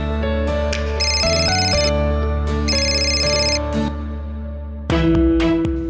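A phone rings with an incoming call in a home living room, the repeated electronic ringtone bursts loud and close, a steady tonal background continuing beneath and between the rings.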